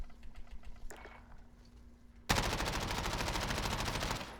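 MP5 submachine gun fired in a first-person shooter video game, a quiet lead-in followed by a sudden loud, sustained burst of rapid automatic fire that continues steadily to the end.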